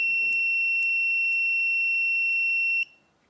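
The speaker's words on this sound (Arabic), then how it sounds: "كل ما يعلى صوتي فوق مستوى معين بيصفر" An Arduino anti-snoring alarm with a sound sensor sounds its buzzer, a piercing steady high beep with several faint pulses, then cuts off abruptly, leaving near silence.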